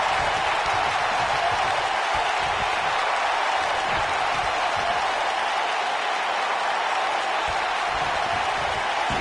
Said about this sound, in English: We've got a raucous crowd here in Philadelphia.